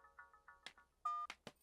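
A telephone is dialed in a Telugu comedy film scene: a quick run of short electronic keypad beeps, a few clattering knocks, then one longer steady tone. All of it is fairly faint and close.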